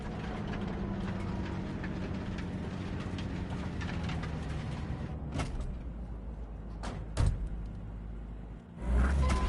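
Train rumble in the video game Cyberpunk 2077: a steady, loud, broadband roll of wheels and carriage noise with a few sharp clanks near the end, with no voice.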